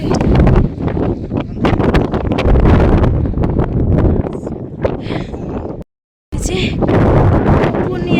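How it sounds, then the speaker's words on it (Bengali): Strong mountain wind at Manali roars and buffets the microphone in loud, continuous gusts, broken by a brief dropout near the end before the rushing resumes. "ওখানে এতটা হাওয়া দিচ্ছে"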